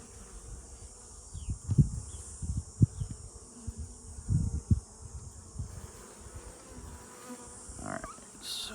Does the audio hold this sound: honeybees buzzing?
yes